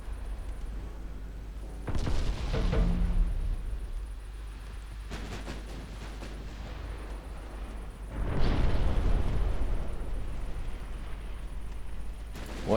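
Naval artillery fire in Ultimate Admiral Dreadnoughts, several deep booming gun blasts with rumbling tails spaced a few seconds apart over a constant low engine and sea drone.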